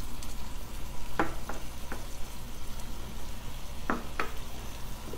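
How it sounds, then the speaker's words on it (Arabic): Onion, garlic and chicken with spices sauté in a pan for bukhari rice, giving a steady close sizzle with a few sharp utensil clicks and no talking. "شوح البصل والثوم، شوح البصل، حط عليه الدجاج،"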